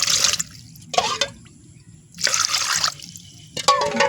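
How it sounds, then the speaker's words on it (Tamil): Water is poured in short bursts onto jaggery in a pan to make syrup for paniyaram, giving close splashing and trickling in about four separate pours with quiet pauses between them. "இதெல்லாம் 2 கப்பு தண்ணி ஊற்றிக்கிறேன்."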